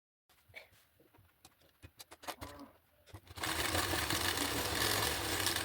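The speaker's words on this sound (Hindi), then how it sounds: "दोनों साइड हमने फिटिंग की सिलाई लगा ली है।" A sewing machine stitches the side seams of a kurti made from an old stole. After some light tapping, handling and a bird cooing nearby, the machine starts up with a close, steady whir that continues to the end.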